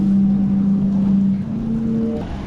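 Sea Organ on the Croatian waterfront, played by waves pushing through holes in the stone steps, giving a steady loud low organ-like drone that shifts pitch partway through, with no talking.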